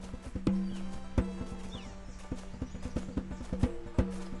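Steady rhythmic hoof clip-clops from a horse in the video game Gabriel Knight, a sharp clack every half second or so over a constant electronic drone, with no voices.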